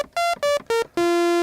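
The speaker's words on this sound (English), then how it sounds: "the initial patch has got both oscillators on 8 foot and both" Behringer Neutron synthesizer, both oscillators at 8 foot on sawtooth waveforms: four bright buzzy notes stepping downward, the first three short and the last held, loud and close.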